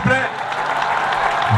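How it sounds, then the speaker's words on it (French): A crowd applauding and cheering at a public gathering during a presidential visit in Gamba, a brief steady wash of clapping and voices, fairly loud and continuous throughout. "Est-ce qu'on peut acclamer très fort, s'il vous plaît?"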